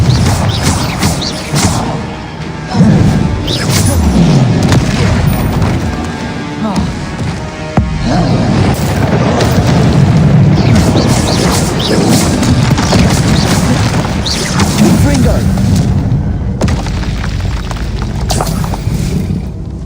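Fiery explosive Confringo spell blasts in the video game Hogwarts Legacy go off repeatedly as loud booms and crashing impacts, layered with game combat noise and a voice talking throughout.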